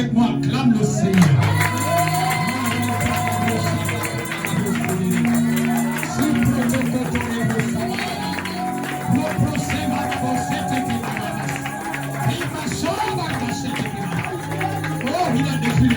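A church congregation at a French-language worship service cheering, shouting and applauding together, a loud sustained crowd roar with whoops over clapping throughout, and a voice mixed in.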